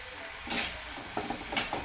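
Kapanya sweet snacks frying in hot oil, a soft steady sizzle with a few light scrapes and clinks of a utensil turning them in the pan, close and fairly quiet.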